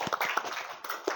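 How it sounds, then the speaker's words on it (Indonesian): A high school math class claps for a student group, a short scattered burst of hand claps from a modest number of students in a classroom, fairly faint and uneven. "Tepuk tangan buat kelompok."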